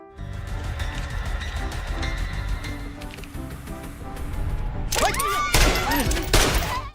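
Pistol shots in a film action scene, a few sharp cracks near the end following a stretch of rumbling score and effects, loud and up close.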